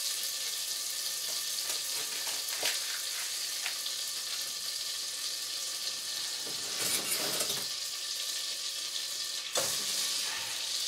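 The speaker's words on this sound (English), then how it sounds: "2 sticks of butter, and I melt those down" Two sticks of butter melt in a pan over medium heat, producing a continuous close sizzle and hiss. Louder bursts of spattering and stirring scrapes rise briefly now and then, and no one speaks.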